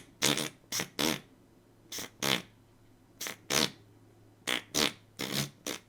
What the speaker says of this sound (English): There's a little goat horn fart thing.